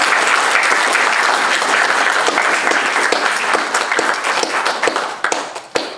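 A large audience at a college graduation ceremony claps loudly and steadily for about six seconds, a dense close wash of hands that thins out and fades near the end.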